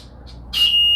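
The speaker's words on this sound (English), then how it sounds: "Our pressure alarm goes off around 15 psi" Pressure alarm on an anaesthesia breathing circuit sounding as the reservoir bag fills near 15 psi: after short faint chirps, a loud, steady high-pitched electronic tone begins abruptly and holds to the end, with no talk.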